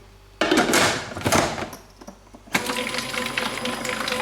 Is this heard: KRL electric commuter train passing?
no